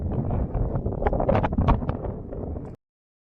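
Strong wind buffets the microphone on the Nidagallu mountain peak in thick mist, a loud, rough, gusting roar that holds steady and then cuts off abruptly.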